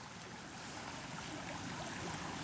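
Creek water flowing at night, a steady broadband rush and trickle over the bank, continuous and even with no voices.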